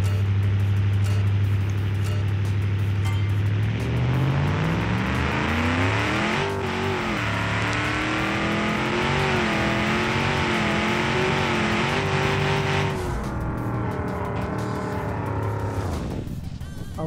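Twin-turbo 9.5-liter V8 drag car making 1813 horsepower in BeamNG.drive, loud and close, a low engine drone rising steadily in pitch through the gears as it accelerates hard, then dropping off near the end.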